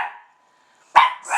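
Suki the dog barks indoors, a sharp close yap followed by another loud bark, with a faint whine before it.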